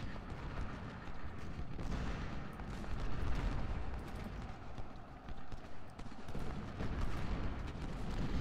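Musket fire in Ultimate General Civil War, a Vicksburg battle at Hall's Ferry Road: dense, continuous crackling volleys of many distant shots blending into a rolling rumble, with heavier booms now and then and no talk.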